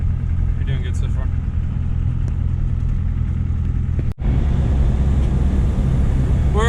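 A truck driving home along a road from a wildlife management area, with a steady, loud low engine and road rumble throughout and a brief dropout partway through.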